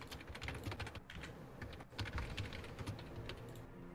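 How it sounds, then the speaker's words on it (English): Rapid typing on a computer keyboard, a dense run of close, crisp key clicks with brief pauses, heard alone without any talk. "Can't stand typing noises."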